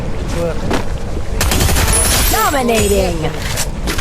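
Gunfire in a shooting video game, with rapid bursts of shots over a busy, loud game soundscape while a player talks throughout.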